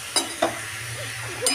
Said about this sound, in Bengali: এখন আমি এটাকে হালকা হালকা করে নাড়াচাড়া করে নিচ্ছি।